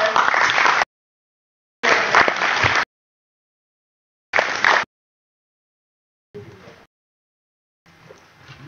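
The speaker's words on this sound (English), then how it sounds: "applause" Short bursts of audience applause at a conference in Leeds, three loud stretches of clapping cut apart by silence, followed by two quieter, duller stretches.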